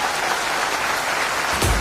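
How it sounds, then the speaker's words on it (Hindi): Sustained applause from an audience filling a hall at a business event, steady, dense and fairly loud throughout with no voices over it. "उसके लिए तो एक ताली होनी चाहिए, ताली होनी चाहिए।"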